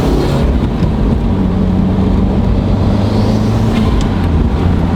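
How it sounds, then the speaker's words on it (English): Subaru WRX with a stock exhaust cruising at steady speed, a loud, constant low drone dominated by intake noise with no revving. "Really all you're getting is just intake noise at this point."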